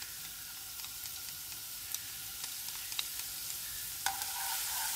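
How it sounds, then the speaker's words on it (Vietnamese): Garlic sizzling in hot oil in a pan, a soft steady frying hiss with a few light stirring clicks, quiet and close. "Dầu nóng mình cho tỏi và mình phi thơm."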